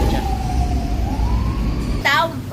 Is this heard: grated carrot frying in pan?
no